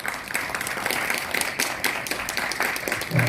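At a graduation ceremony for Eulji University's merchant graduate school, an audience applauds in a brief, moderately loud burst of clapping lasting a few seconds.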